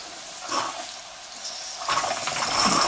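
Steam hisses into the line of a Jensen Model 20G toy steam engine, a soft rushing that swells abruptly halfway through into a louder, airy gush, close by with no talk.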